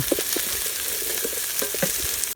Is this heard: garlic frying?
yes